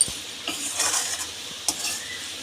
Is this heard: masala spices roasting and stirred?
yes